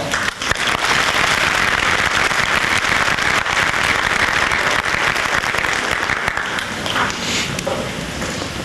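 Loud, dense applause from a school academic awards audience honoring parents, many hands clapping in a continuous roar that holds strong throughout and eases only slightly near the end.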